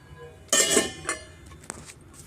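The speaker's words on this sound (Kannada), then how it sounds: "ಈಗ ತಟ್ಟೆ ಮುಚ್ಕೊಳ್ಳೋಣ" A plate is set down over a pot of cooking white pumpkin for halwa, giving one sharp metallic clatter followed by a few lighter clinks and a softer tap, close and clear with no talk.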